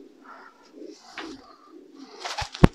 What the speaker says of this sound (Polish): No i tam też są gołąbki, bo uchowałem kilkanaście gołębi.